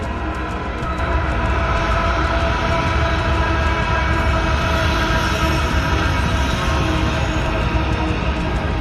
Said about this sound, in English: we see a southbound Norfolk Southern-led freight train on the Sandusky District